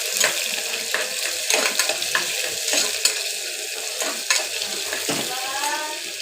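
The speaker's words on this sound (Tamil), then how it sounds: "இதில் வந்து நான் ஒரு வெங்காயம் சேர்த்துக்கிறேன். இது வந்து கொஞ்சம் நல்லா பொன்னிறமாக வதங்கி வரட்டும்." Chopped onion sautéing in a pan with cinnamon and cloves for kara makaroni, a steady close sizzle with light stirring scrapes throughout and no talk.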